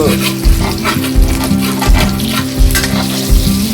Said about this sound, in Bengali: আজকে রান্না করছি ডিমের তরকারি, জীবনে প্রথম